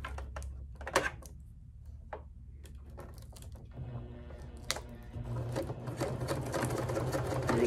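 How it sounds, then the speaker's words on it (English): A sewing machine stitches around the edge of a placemat being made into a tote bag, a quiet rapid mechanical patter with short pauses, running steadily and close by with no talk. "I'm just going to do a square and just sew right around the edge of that"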